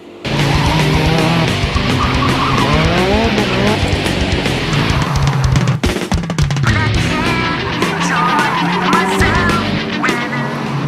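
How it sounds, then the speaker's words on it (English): Loud, steady roar of cars passing close by, with engines revving, tires squealing and occasional honks over continuous traffic noise. "I see a lot of regular cars going by too"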